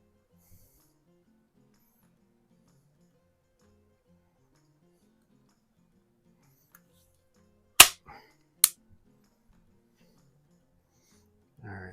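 Two sharp, loud pops from a Beeman P3 air pistol with a 4-ounce trigger, plinking at targets, spaced under a second apart after a long quiet stretch, with faint low background murmur.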